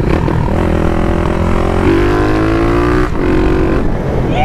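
A Yamaha XT660 motorcycle with a TBI engine pulls hard under acceleration, its loud, close engine note rising through the revs, dipping at a gear change and then climbing again.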